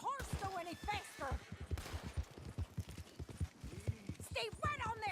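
A horse's hooves pound in a steady, rapid galloping rhythm in Red Dead Redemption 2 while voices shout over it and scattered gunshots crack in the background.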